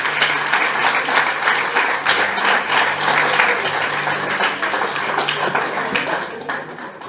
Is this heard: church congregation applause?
yes